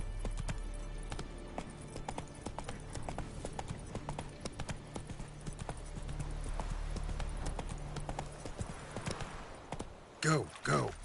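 Hooves of the horse Roach in The Witcher video game clip-clopping in a steady rhythmic trot, fairly close, with in-game voices briefly speaking near the end.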